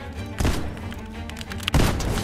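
SMG gunfire in Fortnite, loud and close, with two sharp bursts of rapid shots separated by a brief quieter gap.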